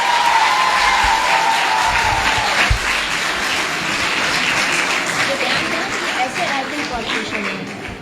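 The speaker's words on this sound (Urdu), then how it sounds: "سیکنڈ پوزیشن ہے Islamic learning department first year Samina Tajal, بھرپور تالیوں کے ساتھ۔" A university audience at a Kashmir Day speech competition breaks into loud, steady applause for a prize winner, filling the room continuously with a faint voice underneath.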